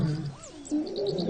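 A lion's roar, a drawn-out low groaning call with a rising and falling sweep, heard under chirping birds in the wild, moderately loud and close, with no talking.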